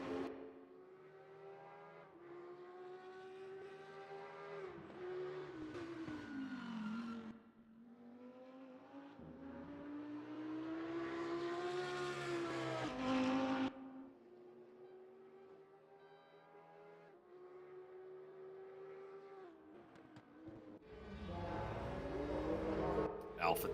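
Race cars on a warm-up run around Imola in a racing video game, engines droning and rising and falling in pitch as they run through the gears, moderately loud and steady beneath background music and a talking voice.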